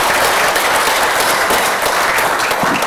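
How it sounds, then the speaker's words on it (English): Dense, steady applause from a conference audience after a panel discussion on African private capital markets, a loud sustained wash of many hands clapping with no break, no voices on top. "Please join me in giving everyone a round of applause."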